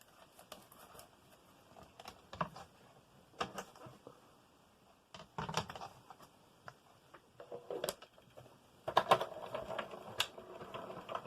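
A card-making embossing machine cranks card panels through in bursts of ratchety clicking and rolling, pausing between passes, close and moderately quiet.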